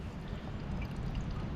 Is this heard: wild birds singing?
no